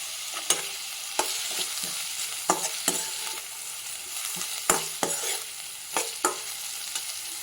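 Onions and green chilies stir-fry in a pan for poha upma, a soft continuous sizzle broken by regular sharp scrapes of a spatula against the pan.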